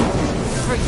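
An Incendio fire spell cast in Hogwarts Legacy, a loud, dense burst of fiery noise with a thumping low end that fills the whole brief moment without letup.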